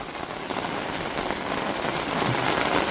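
Heavy rain pours down in strong wind at a seaside village, a dense, steady roar of drops hitting surfaces, loud and close with no voices.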